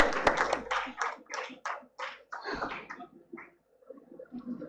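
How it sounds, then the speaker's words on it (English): Applause for conference awardees: a short burst of clapping from a small crowd that thins into scattered claps and fades. "Let's have a big round of applause for all the awardees"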